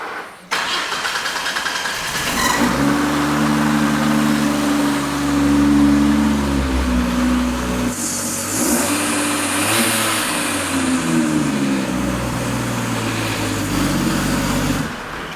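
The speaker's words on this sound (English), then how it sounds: "that is not a death rattle, that is a mechanical timing chain tensioner" A Ford engine cranks and starts, then runs loudly with a harsh metallic rattle from the mechanical timing chain tensioner, revving and settling over a steady idle throughout, with no talking.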